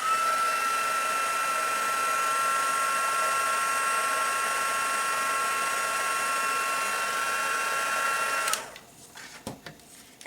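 A heat tool melts embossing powder, giving a steady, close whirring blow of hot air for about eight seconds before it switches off, followed by faint handling clicks.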